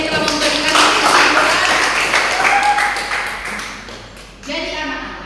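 Classroom applause for students: a sustained wash of many hands clapping fills the room at steady loudness, thinning briefly near the end before swelling again.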